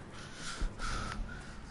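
Birds in Dragon Age: Inquisition let out a few harsh, crow-like caws and squawks at moderate distance, spread over a short stretch with no talk.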